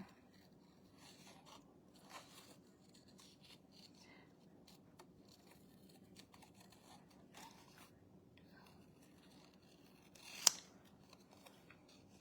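Paper scissors snip at ribbon, faint close-up cutting and scraping sounds scattered through a quiet room, with one sharper louder snip near the end and no talking.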